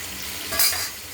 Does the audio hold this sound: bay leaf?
yes